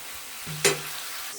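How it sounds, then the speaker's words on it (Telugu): Spinach frying in a pan while making a paneer curry, a soft low sizzle with one sharp scrape or stir near the middle, close and fairly quiet, no talking. "ఇది పాలకూర అండి బాగా ఫ్రై చేసుకుందాం"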